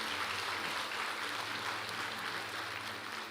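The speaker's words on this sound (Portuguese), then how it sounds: "Uma salva de palmas para Jesus." A church congregation applauds, a steady, even wash of many hands clapping that holds at a moderate level for a few seconds with no voices.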